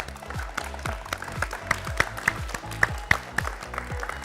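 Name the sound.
applause after a team wins a point in a game show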